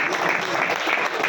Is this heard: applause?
yes